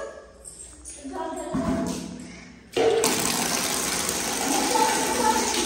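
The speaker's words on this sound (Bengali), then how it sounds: "এরকম করে করে পা ধুতে হয়" Water splashing while a child's feet are washed, quieter dripping and rustling first, then a sudden loud rush of running water that pours continuously to the end.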